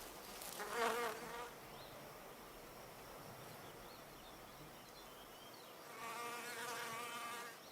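A male wasp buzzes in flight around an orchid, a faint, wavering insect drone that swells near the start and again toward the end, with no talking.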